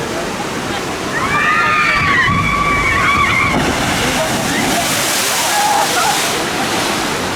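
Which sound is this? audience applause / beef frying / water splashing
water splashing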